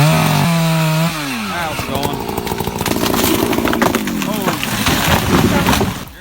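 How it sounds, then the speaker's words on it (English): A chainsaw revs and cuts through tree timber during logging, its engine loud and close as the pitch rises and falls, with a voice talking over it. "The winch takes the load off first, then the saw slides out easy."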